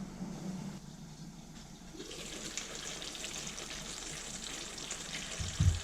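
Hungarian-style beef goulash stewing under a lid, a soft continuous bubbling and sizzling simmer, faint and steady, with a brief louder clatter near the end.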